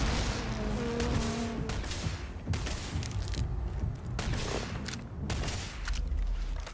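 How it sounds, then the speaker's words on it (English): Rapid bursts of gunfire from a Starfield space-combat game, loud and continuous with repeated booming shots layered over a dense background rumble, no voices. "You're still firing."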